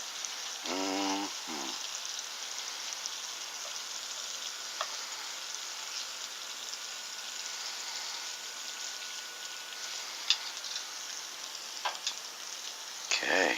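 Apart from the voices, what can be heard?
garlic butter shrimp frying in a pan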